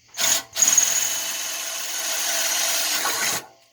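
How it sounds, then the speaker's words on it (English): An electric drill with an oiled bit whirs briefly, stops, then runs steadily for a few seconds, biting into material up close before cutting off, while customizing a lamp. "a little oil there on the end of that drill bit."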